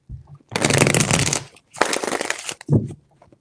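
Cards are shuffled in two loud riffling bursts separated by a short pause, followed by a brief softer rustle and tap, close up.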